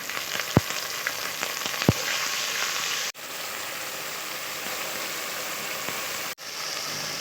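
Steady, loud sizzling of onion, ginger paste and whole spices frying in hot oil in a pan fills the whole clip, with a couple of sharp clinks near the start.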